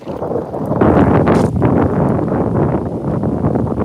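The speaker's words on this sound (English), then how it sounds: "I'm sorry about the wind." Strong wind buffeting a microphone outdoors, a loud continuous rumbling roar with gusty swells throughout, no talking.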